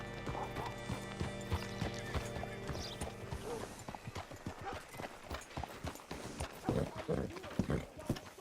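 Horse hooves clip-clopping in Red Dead Redemption 2, a steady trot slowing to a stop, with a whinny partway through, creaking mechanical tack and a faint low voice underneath.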